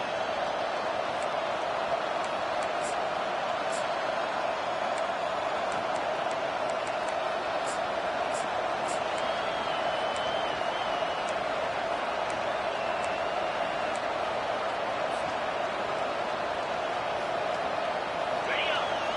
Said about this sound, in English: This crowd rising up